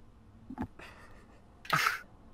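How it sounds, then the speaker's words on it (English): A small pet bird gives one sharp, brief sneeze, close and fairly loud, with a faint softer puff just before it and quiet room noise around. "She sneezed on me."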